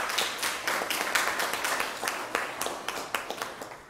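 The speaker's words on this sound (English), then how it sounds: "Give a round of applause." A city council meeting audience claps in a round of applause, many sharp individual claps close by forming a lively, slightly uneven patter that carries on without talk.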